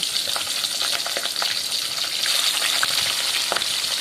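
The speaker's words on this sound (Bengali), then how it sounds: "তারপরে একে একে মাছের পিসগুলো দিয়ে দেব। নেড়ে চেড়ে লালচে করে ভেজে নেব।" Rohu fish pieces frying in very hot oil, a bright, continuous crackling sizzle with scattered pops and spatters, close and steady throughout with no voices.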